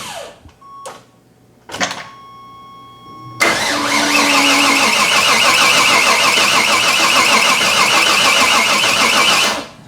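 4x4 El Camino engine turning over with short cranking bursts, then firing and settling into a loud, steady, slightly rough idle that continues to the end.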